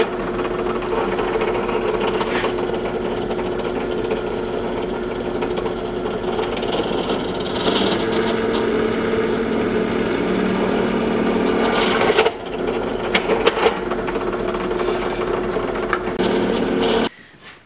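A drill countersinks screw holes into an aluminum frame piece, giving a steady, close grinding whir that runs almost continuously, with a brief pause and change in tone partway through before it resumes and then stops.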